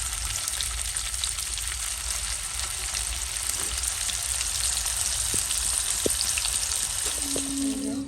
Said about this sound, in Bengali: মাংসটা সুন্দর করে ভেজে নিচ্ছি